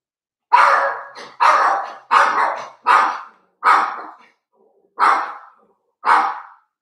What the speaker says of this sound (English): My dog, he must see a figure outside, so he's letting me know there's something out there